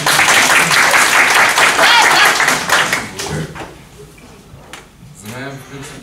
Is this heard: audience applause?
yes